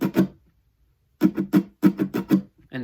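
Fully muted guitar strums from a song tutorial: dull, choppy percussive chucks, a pair, then a pause, then a quick run of about seven muffled strokes in uneven rhythm, close-miked with no talking.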